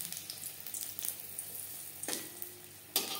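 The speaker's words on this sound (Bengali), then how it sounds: "দিয়ে দেব শুকনো লঙ্কা।" Dry red chillies sizzling in oil in a wok on low flame, a steady crackling fry with a few sharper spits and stirring scrapes, close and alone.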